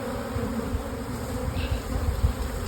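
Honey bees from a swarm drone in a dense, continuous buzz close by, with many wings humming at once and small swells in loudness, no voices.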